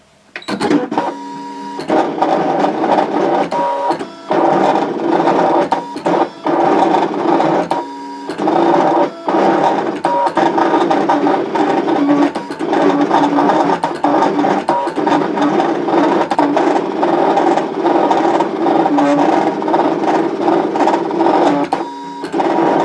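A Brother ScanNCut machine draws with a pen in a universal pen holder, giving a loud, steady mechanical whir with motor tones and rapid ticking carriage movements that run continuously with short pauses.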